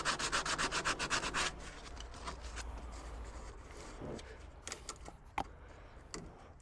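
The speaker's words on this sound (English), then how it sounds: "So here I'm just smoothing it out with some sandpaper" Sandpaper rubbed by hand over a pool plumbing union fitting, a fast run of rhythmic scratchy strokes at first, then quieter, irregular scraping and light handling noises, close and clear.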